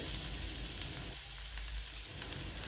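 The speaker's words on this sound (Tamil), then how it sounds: "அதோட வெங்காயம், பச்சை மிளகாவையும் சேர்த்து" Onion and green chilli saute in hot oil with a steady close crackling sizzle and a few small pops, fairly quiet, with no talking.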